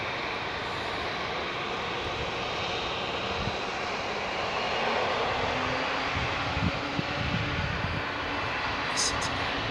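Steady broadband roar of an aircraft engine at Heathrow Airport, loud and continuous throughout, swelling slightly toward the end.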